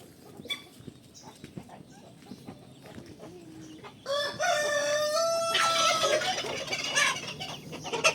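Silkie chickens cluck in a yard amid other fowl, with scattered quiet clucks and rustling giving way to a loud, sustained burst of squawking and calling from the birds partway through.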